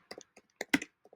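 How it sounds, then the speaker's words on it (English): A few irregular keystrokes tapped on a computer keyboard, close and clear, in short uneven clusters over about a second with silence between them. "Forgive me, I'm not the fastest typer."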